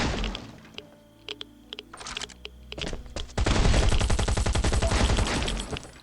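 Shotgun blasts and other weapon fire in the survival video game Last Island of Survival start as scattered sharp cracks and thumps, then swell into a loud, dense, continuous volley.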